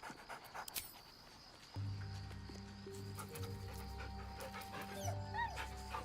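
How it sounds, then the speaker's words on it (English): A dog in the video game Baldur's Gate 3 pants and whimpers softly as it is petted, close and fairly quiet over a steady low game ambience, with a few brief clicks. "And pet the dog."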